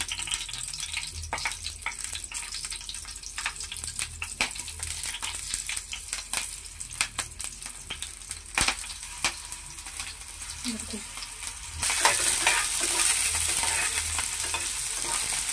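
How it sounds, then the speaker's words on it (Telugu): Green chillies frying in oil in a pan give a steady close sizzle with scattered rattles and clicks from stirring, and the hiss grows brighter and louder near the end. "ఇది ఆయిల్లోనే ఫ్రై చేసేసుకుందాము"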